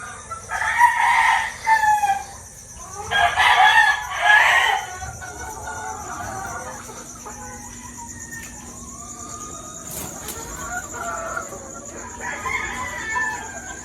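Chickens cluck in an indoor breeding pen while a rooster crows loudly nearby a couple of times, with crickets chirping steadily in the background.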